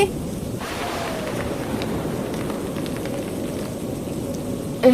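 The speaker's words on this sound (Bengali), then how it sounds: "খুব জোরে বাতাস বইছে মনে হচ্ছে আমাদের ঘর ভেঙে যাবে" A strong wind roars steadily and loudly throughout, a dense, continuous low rush with no break.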